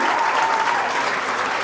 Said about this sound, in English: Another man getting a massive applause from the crowd.